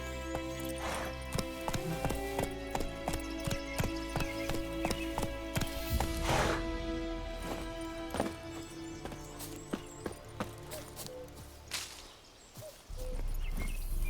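Hooves of Roach, the horse in the video game The Witcher 3: Wild Hunt, clip-clopping in a steady rhythmic trot with an occasional whinny over game music and ambience, fairly close and continuous.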